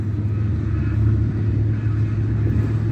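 A Pontiac Trans Am drag car engine with a rev limiter fault, heard as a steady, deep, rumbling drone that holds at an even level throughout.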